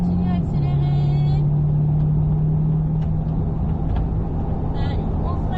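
A car engine hums steadily and its pitch shifts as it gains speed during a driving course on the Mettet circuit, with a constant low rumble throughout.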